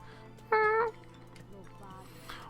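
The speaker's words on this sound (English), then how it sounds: "Did anybody hear that? Look, there's a cat over there." A single clear cat meow from inside the video game Dyscourse, lasting about half a second against a low steady game hum, with faint background sounds following.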